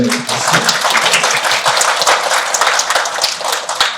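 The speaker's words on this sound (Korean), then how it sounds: "박수 한번 주시죠." Audience at a Korean animation industry policy debate applauds a venture capital panelist as he is introduced, brisk, close clapping that stays loud and dense throughout.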